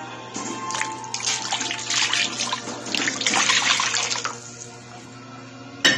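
Chicken broth pours steadily into a pot with a splashing, gurgling rush that builds and then tapers off, followed by a short clunk at the end.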